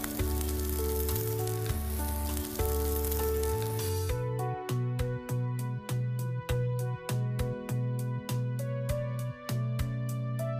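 Rohu fish curry with mustard paste and oil sizzles steadily in a pan while being stirred, partly masked by continuous background music that carries on alone toward the end.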